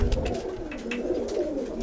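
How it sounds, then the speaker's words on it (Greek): Pigeons coo repeatedly nearby in a loft, soft rolling calls overlapping in an irregular rhythm over a low background rumble. "Αυτά τα περιστέρια, παιδιά, δεν χάνονται."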